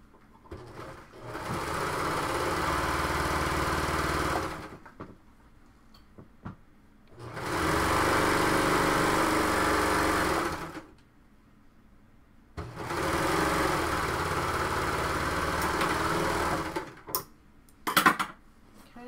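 A serger stitches up the sleeve slit of a blouse in three sustained bursts of whirring, each lasting several seconds and separated by short pauses, with a few light clicks and clatters near the end and no talk.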